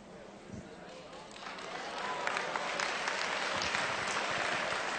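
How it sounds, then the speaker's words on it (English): Clapping from a seminar crowd that builds and grows louder after the first couple of seconds, with voices mixed in. "Come on, clap your hands louder than that."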